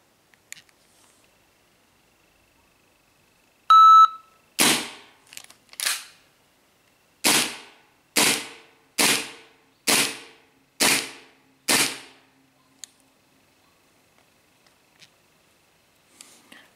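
A short electronic shot-timer beep sounds, then eight sharp dry-fire clicks from an airsoft pistol follow at a fairly even pace, close and crisp against near silence, with a few faint ticks afterward.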